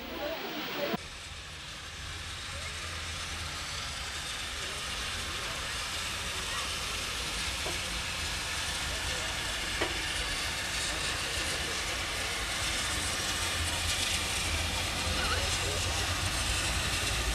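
Nearly century-old steam locomotive 403 departs on the Mastrou railway in the Vivarais, with a loud continuous hiss of steam and a low rumble that carries on steadily throughout.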